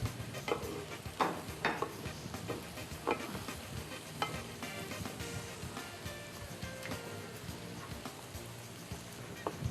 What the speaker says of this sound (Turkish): bu arada fasulyelerimiz kavrulmaya başladı